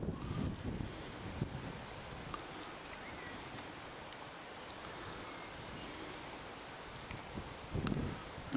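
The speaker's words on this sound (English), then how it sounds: "It's going to be very windy" Strong wind buffets the microphone by the sea at Loch Sport, a steady low roar with surf washing underneath and a few faint high chirps, no talking.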